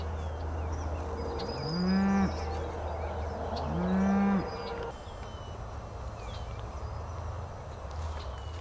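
A cow on a farm lows twice in long, loud moos near the listener, alongside her newborn calf, with steady outdoor background noise between and after the calls.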